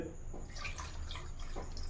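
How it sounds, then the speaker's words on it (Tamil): Water poured into a blender jar packed with cassava for fufu, a steady close splashing, gurgling trickle with no talk, running unbroken for the full two seconds. "இப்போ இதில் கொஞ்சம் தண்ணி ஊற்றிட்டு"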